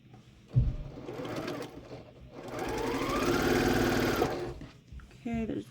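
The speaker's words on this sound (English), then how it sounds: "So I'm going to sew from here to here on both these pieces again." A sewing machine runs in two bursts, a short one then a longer steady whir, stitching quilt pieces for a Christmas block, close and clear, with someone speaking softly at the end.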